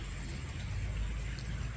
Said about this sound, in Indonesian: Hujan kembali mengguyur nih.